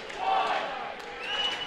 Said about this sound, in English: The call from the crowd tells us that the penalty is over.